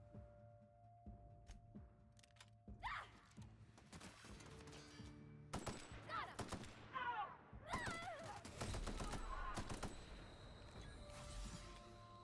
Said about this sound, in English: That light machine gun.